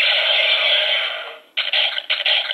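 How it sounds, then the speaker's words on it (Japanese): Close, tinny gunshot and biting sound effects from a DX Gabutyra de Carnival Kyoryuger toy: a sustained electronic buzz fades out, then a string of short, choppy bursts follows. "銃撃音と噛みつき音が入ってますね"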